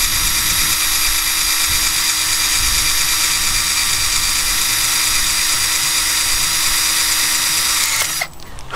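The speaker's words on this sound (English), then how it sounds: "So you can drill a hole in the side of your light" A power drill whines loudly and steadily, boring through the side of an Olight Baton 3 flashlight for about eight seconds before abruptly winding down.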